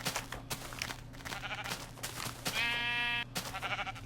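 Minecraft sheep bleat repeatedly in short nasal cries over a steady game background hum, with one long, loud, sustained bleat near the end.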